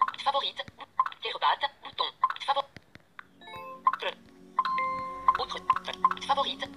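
An iPhone 6 ringtone plays from a phone app as a short, bright electronic melody of repeating tones, close and clear, with a pause partway through.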